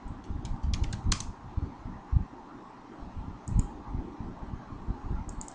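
Java code is typed on a computer keyboard in short bursts of close, crisp key clicks, with brief pauses and a few heavier thumps between the runs of keystrokes, no talking.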